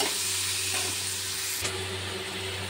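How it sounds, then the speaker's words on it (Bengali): Fish curry with salt and turmeric stirred in a hot pan, a loud steady sizzle with hiss, one brief scrape of the spoon partway through, no voices. "এবারে একটু নেড়ে চেড়ে নেবো।"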